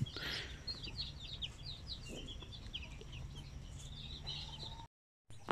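A Zampen mother hen with her newly hatched chicks: a steady stream of high, rapid peeping from the chicks over a low, busy farmyard rumble. The sound is fairly close and continuous, then cuts to a brief silence near the end.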